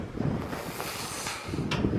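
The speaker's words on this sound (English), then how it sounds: "Yep, it's still windy." Wind gusts steadily across an open remote island site where a high tunnel is being built, a rough, buffeting rush on the microphone lasting about two seconds with no talk.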